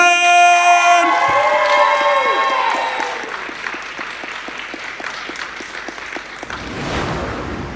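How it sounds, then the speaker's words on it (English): A crowd applauds steadily for a singer named Madison at a live semi-final of a Welsh talent contest, the sustained clapping filling the hall as sung notes fade at the start. "a massive round of applause"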